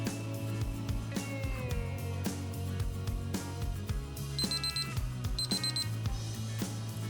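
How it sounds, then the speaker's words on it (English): A kitchen timer rings after four minutes of boiling eggs in one pot, giving two bursts of rapid, bright electronic beeping over a steady bubbling and stovetop background. "I will set the timer for 4 minutes"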